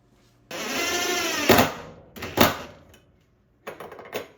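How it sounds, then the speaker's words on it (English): A DeWalt drill strains to drive a screw into a ceiling rafter in bursts: a long whirring run, then shorter revving pulses with pauses between, close and fairly loud. "I tried to use a drill, but it didn't do anything."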